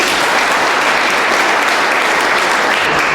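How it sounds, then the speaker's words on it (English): A dense, loud burst of applause fills a hall at a community champion awards ceremony, a steady wash of many hands clapping together without a break. "Let's give them a big round of applause."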